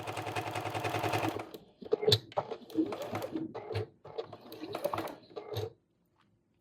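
Sewing machine chain piecing quilt pieces for Dresden Plate placemats, a fast steady run of stitching at the start followed by shorter bursts of stitching and handling clatter, close and moderately loud, ending in near silence.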